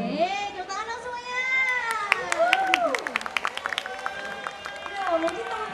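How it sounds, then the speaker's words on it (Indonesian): Crowd applause and scattered clapping at a festival concert after a band's songs, rising from under talk and music into a burst of claps that fades, with voices heard over it. "Tepuk tangan dong semuanya."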